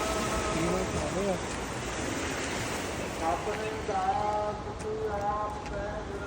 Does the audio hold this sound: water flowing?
yes